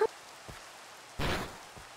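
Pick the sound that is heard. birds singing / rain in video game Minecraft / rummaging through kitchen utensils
rain in video game Minecraft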